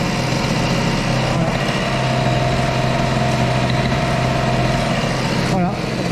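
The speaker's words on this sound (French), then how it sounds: "je vais remettre un petit coup de gaz, tout petit coup de gaz, ça va remonter à 4000 et ça va rester bloqué" An Airsal CPI 70 scooter engine, lean on fuel, holds a steady high, buzzing idle stuck around 4000 rpm after a light throttle blip, loud and close with a faint voice.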